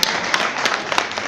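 A brief burst of dense clapping from the crowd at a Dr. Babasaheb Ambedkar Jayanti speech event in Kalyan, even and continuous for just over a second.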